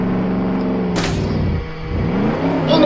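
A fast vehicle in the Roblox game Jailbreak: a loud, steady engine drone that dips briefly, then climbs again in pitch as it accelerates, with a sharp burst near the start and no talking.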